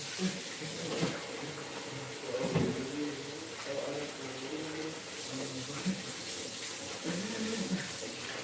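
A kitchen tap runs steadily for hand washing after preparing oven-baked jerk pork, a close, continuous splash of water with some clatter, with no talk over it.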